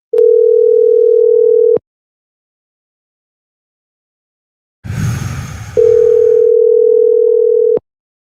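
A steady telephone dial tone hums alone for nearly two seconds, falls silent, then returns after a brief rustle of handling and holds for about two more seconds as a call is placed.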